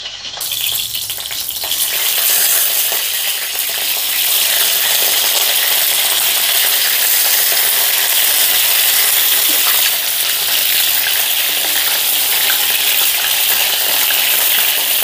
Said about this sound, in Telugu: ఇప్పుడు వంకాయల్ని ఈ ఆయిల్లో వేసుకుందాం.